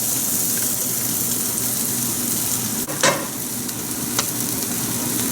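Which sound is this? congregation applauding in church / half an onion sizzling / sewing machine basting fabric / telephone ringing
half an onion sizzling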